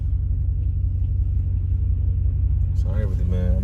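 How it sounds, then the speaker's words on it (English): A 2017 RAM 2500 Big Horn Hemi with its muffler deleted rumbles at a steady, deep, loud idle close by, and a voice starts talking over it near the end. "I be needing to hear that Hemi wake up"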